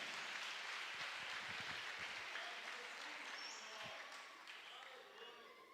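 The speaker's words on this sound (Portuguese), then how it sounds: "Aplaude a Jesus." A church congregation claps together in a sustained wash of applause that gradually fades, with faint voices mixed in.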